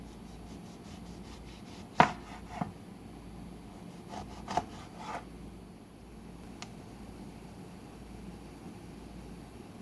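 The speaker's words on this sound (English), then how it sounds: "It's time for me to quarter and de-seed the lemon." A few sharp knife strikes through a lemon against a cutting board, irregularly spaced, close and fairly crisp over a quiet kitchen background.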